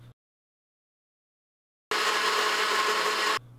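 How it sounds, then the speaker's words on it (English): A blender whirs steadily for about one and a half seconds, blending dog treat ingredients, loud and close after a stretch of silence, then cuts off abruptly. "Combine the ingredients in a blender for 10 seconds"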